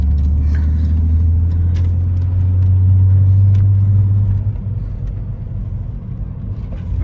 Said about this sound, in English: you can see, nice smooth idle, no complaints